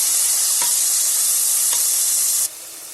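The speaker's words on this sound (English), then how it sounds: "Now the tomatoes are cooking" Chopped tomato sizzles steadily in a pan of saag for sarson ka saag, a broad bright hiss with a couple of faint stirring scrapes, cutting off sharply near the end.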